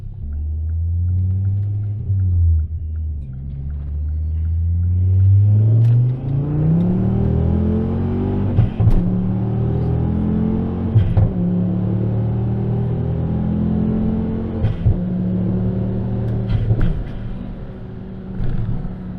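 A 2011 Ford Focus ST 225 pulls hard along an open road, the engine's rumble climbing through the revs in long surges, dropping briefly between gear changes, then building again, loud and close with no talking.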